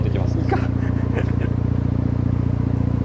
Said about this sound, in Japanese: まあこれアイドリングの音でね。